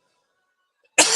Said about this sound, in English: Sorry, guys, I've got the coughs today.